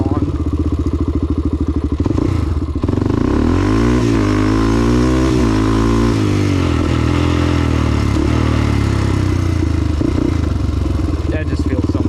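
Motorcycle fitted with an HMF exhaust pipe, engine revving loud and close, rising and falling in pitch over a steady idle rumble throughout.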